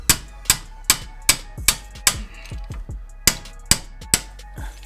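A hammer strikes stubborn, long-unremoved wheel hub bolts on a 1994 Jeep Wrangler YJ, giving about ten sharp metallic blows in an uneven rhythm, some paired, each ringing briefly.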